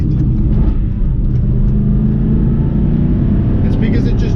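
An Aston Martin Vantage hums at a steady, loud rumble from inside the moving car, with no distinct revs. A person speaks over it.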